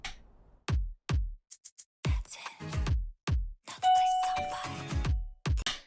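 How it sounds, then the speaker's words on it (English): A doorbell chimes a few times in short ding-dong bursts, mixed with sharp thumps and clattering sounds nearby. "My doorbell going then?"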